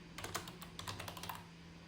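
Quick bursts of keystrokes on a computer keyboard while entering names into HTML code, a steady patter of clicks with brief pauses, close and fairly quiet over a low hum, no voices.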